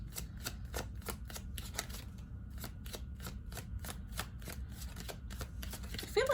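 Tarot cards shuffled for a reading, a steady run of crisp riffling flicks repeating quickly and close up, with a faint low hum underneath.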